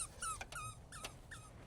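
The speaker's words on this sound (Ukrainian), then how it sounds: "це собака просто моя" A dog whimpering in a few short, high-pitched whines, close but soft, with faint clicks in between.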